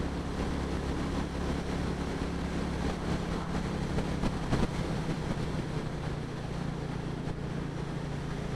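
A Royal Enfield motorcycle engine at high revs while riding at about sixty, a steady continuous drone mixed with wind rush, constant and unbroken throughout.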